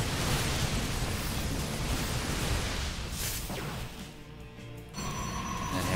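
StarCraft 2 battle: a loaded Medivac drop ship is destroyed and the units inside die in a dense roar of explosions and crashes, loud and continuous, dipping briefly before a sharp burst near the end.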